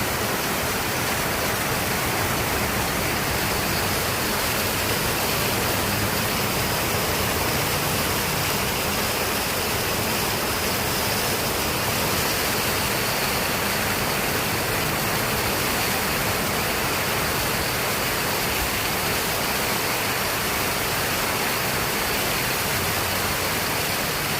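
Heavy rain pours down in a dense, steady hiss that stays loud and unbroken throughout, with no voices over it.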